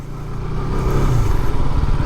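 Motorcycle engine running steadily and loud up close at the start of a ride, a continuous low rumble with slight revving swells throughout.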